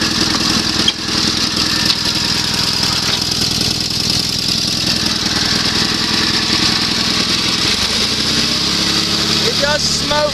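A Sears SS16 garden tractor engine idles low and steady, a loud continuous rumble with a slight rhythmic chug, briefly shifting pitch near the end.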